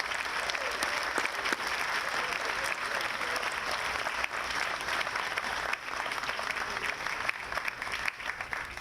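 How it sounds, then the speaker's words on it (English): A crowd at a Memorial Day ceremony gives the ladies' auxiliary a big round of applause, a broad, sustained wash of clapping that holds steady at even loudness throughout. "Can we give our ladies a big round of applause?"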